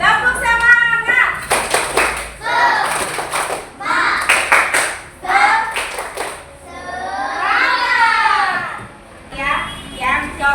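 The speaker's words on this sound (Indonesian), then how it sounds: "ayo, tepuk semangat." A group of children performs a rhythmic cheer clap in a classroom, sharp bursts of unison hand claps in patterned sets alternating with children's chanting voices, loud and close.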